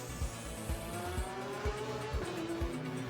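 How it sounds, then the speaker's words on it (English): GT race cars in free practice at Imola blast uphill one after another, engines rising in pitch as each passes, with repeated sharp bursts over a steady engine drone at moderate distance. "Glorious noise as the cars blasted their way uphill."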